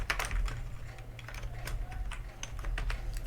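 Rapid keystrokes patter on a computer keyboard in an uneven, continuous run of clicks, close-miked over a low electrical hum.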